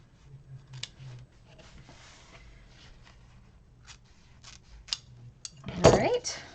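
Scissors snip through material in a sewing class, with sparse, light cuts and a closer, sharper burst of cutting near the end, set against quiet room murmur and soft talk.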